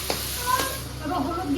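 Cumin seeds sizzling in hot oil while cooking rui fish kalia, a steady close frying hiss with a few brief stirring clatters, no talk.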